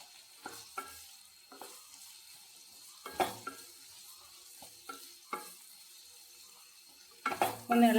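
Beetroot stir-fry being stirred in a pan, a faint sizzle broken by intermittent scraping strokes and a louder clatter of the utensil near the end.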